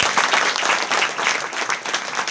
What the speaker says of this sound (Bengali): স্যারের জন্য একটা দিল খোলা হাততালি হয়ে যায়।